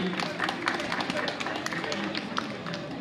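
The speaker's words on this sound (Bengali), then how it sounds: "জোরে হাততালি।" An audience at a Durga Puja cultural program claps loudly after a performance, a dense, continuous patter of many hands that lasts a few seconds, with a voice heard over it.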